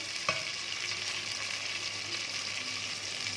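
Chicken biryani ingredients being stirred and fried in a pan: an even, close sizzle runs throughout, broken by a single sharp utensil knock near the start.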